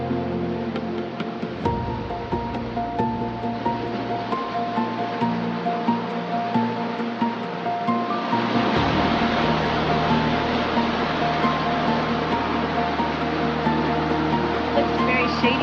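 A small waterfall cascades inside a rocky tunnel on the Stoddard Falls hike near Mt Baldy, a continuous rushing hiss of water that swells louder midway, with voices heard faintly over it.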